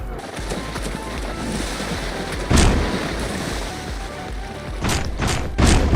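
Ocean waves in the video game GTA 5, a continuous rushing surf with wind noise, punctuated by several louder crashing splashes near the middle and the end, heard without speech.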